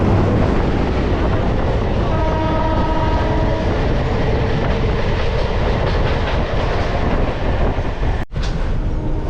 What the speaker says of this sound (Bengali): কাঞ্চনকন্যা এক্সপ্রেস যাচ্ছে